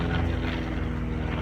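Airplanes flying overhead during a total solar eclipse, a loud, steady low engine roar with a broad rumbling drone that fills the whole moment without pause.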